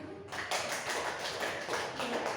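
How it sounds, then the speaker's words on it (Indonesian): An audience at a school teachers' presentation on positive culture claps together, a dense steady patter of many hands filling the room at close range. "Saya pikir boleh tepuk tangan dulu."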